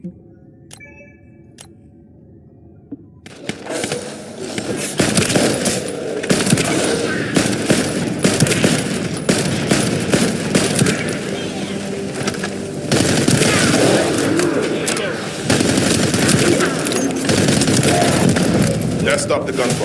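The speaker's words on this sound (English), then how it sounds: "That stopped the gunfire." Sustained automatic gunfire from The First Descendant, a video game: after a quiet opening with faint tones, dense rapid bursts erupt and continue loudly and nearly unbroken, rising further in intensity toward the end.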